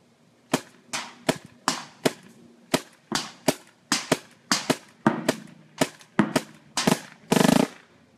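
An MCS Vortex gun fires through a full magazine, about fifteen sharp, close shots in a steady but slightly uneven rhythm, ending in a quicker rattling burst.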